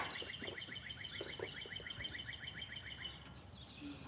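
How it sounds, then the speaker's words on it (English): A bird chirps in a quick, regular series of high, thin notes, repeated steadily at moderate distance. Low indoor background noise sits beneath, with no talking. "That is a bird."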